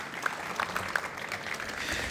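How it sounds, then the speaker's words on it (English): An audience at an airport ticketing lobby presentation claps in a quiet, distant patter of applause, with a few sharper individual claps standing out. "Let's give them a big round of applause and a big thank you."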